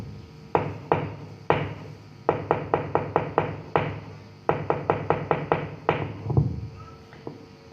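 Knuckles knocking on a table in quick clustered runs of sharp, close wooden raps, several bursts of four to six knocks separated by brief pauses, with no talking.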